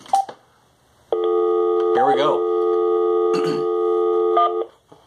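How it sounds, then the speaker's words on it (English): Telephone keypad dialing tones ring out as a call is placed, a long sustained tone with brief chirps and a short voice over it, loud and close. "Hopefully he answers the phone when I call."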